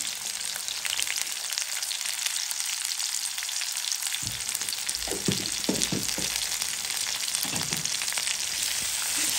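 Vegetables such as potato and carrot fry with salt and a little turmeric in a pan, a loud continuous sizzle close up, with a few scraping stirs partway through and no talking.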